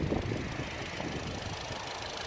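A Volkswagen Passat Highline's 2.0-litre four-cylinder EA888 turbo engine, rated at 220 hp, runs at a steady idle, a close, even rumbling hum with a slight knocking texture and no talk.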